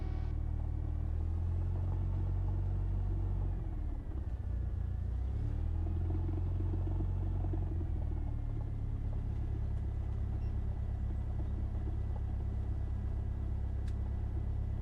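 A Cessna 172 taxiing at Camden Aerodrome, its piston engine a loud, steady low rumble heard from inside the cabin, shifting slightly in pitch midway and then holding even throughout.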